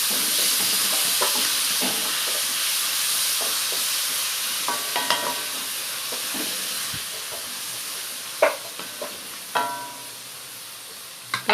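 Onions are sautéed with salt in a pan for egg puffs: a soft, constant hiss of frying with scattered spatula scrapes and a few louder clinks toward the end, no voices.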